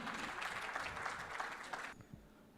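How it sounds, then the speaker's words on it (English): Applause at the BARC Asia Goodwill Awards gala in 2017 honours Miss Beena Banerjee, a moderate burst of clapping that cuts off sharply after about two seconds, leaving a few faint thumps. "A round of applause for Miss Beena Banerjee."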